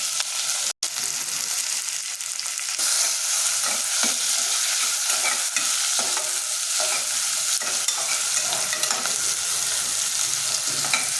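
Steady loud sizzling of chopped onions frying in a hot pan, with a spoon repeatedly scraping and stirring through them.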